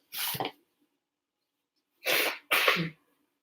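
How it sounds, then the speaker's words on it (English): Three sharp, breathy bursts close to the mic, one followed after a pause by two quick ones, like someone blowing their nose. "Sorry, I just had to blow my nose"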